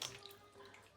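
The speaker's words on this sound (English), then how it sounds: "Now I remove water." Water being poured off washed beans while making Nigerian moi moi, a faint, brief splash and trickle with soft gurgles, quiet and alone.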